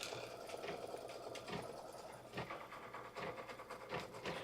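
A sewing machine tacks down fabric for a 60 degree table runner, a faint steady whir with a few brief louder surges of stitching.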